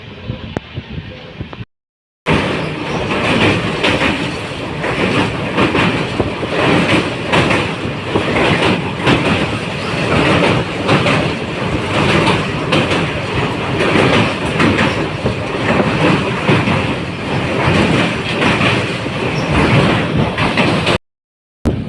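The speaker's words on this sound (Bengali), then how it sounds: "ট্রেনটি একটা অসাধারণ কার্ভ নিচ্ছে" Padatik Express running on rails through a curve between New Jalpaiguri and New Alipurduar, a steady loud rumble of wheels with rhythmic clickety-clack, continuous and close, broken by brief gaps at the start and end.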